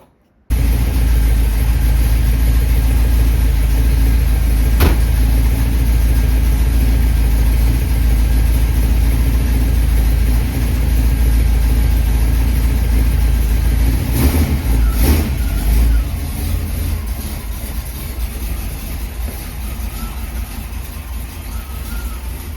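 A classic car's engine runs steadily through a test drive, a continuous low rumble with mid-range drone, briefly surging then easing off and growing softer toward the end, with no talk.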